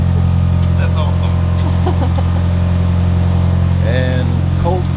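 A 1991 Eagle Talon fitted with a new Deatschwerks fuel pump idles steadily after a cold start, a close, constant low engine drone, while people talk nearby.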